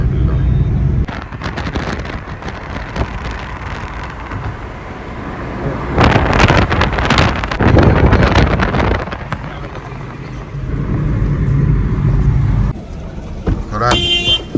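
Car driving toward Haram Sharif, a steady engine and road rumble with bursts of wind noise buffeting the microphone, heard close inside the vehicle.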